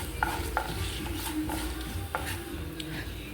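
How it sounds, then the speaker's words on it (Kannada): Fenugreek seeds, cloves, cinnamon and black pepper frying in oil for a chicken curry, a steady soft sizzle with scraping stirs and light clicks of a spoon against the pan. "ಈಗ ಇದನ್ನು ಚೆನ್ನಾಗಿ ಫ್ರೈ ಮಾಡ್ಕೊಳ್ಬೇಕು."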